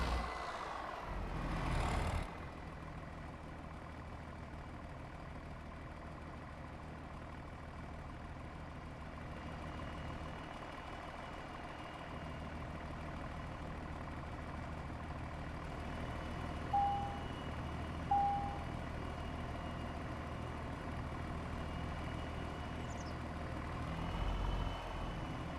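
In Farming Simulator 25, a truck backs up a trailer with a steady idling engine drone, soft intermittent reversing beeps, and a couple of brief air-brake hisses at the start and end.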